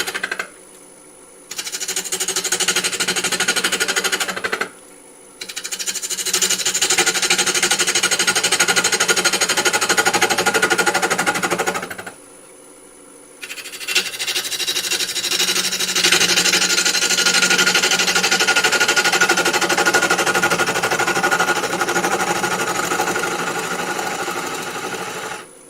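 Wood turning on a lathe, with the cutting tool held almost horizontal as it picks up the cut. Close, loud rattling cutting noise runs in long steady stretches, broken by two short pauses.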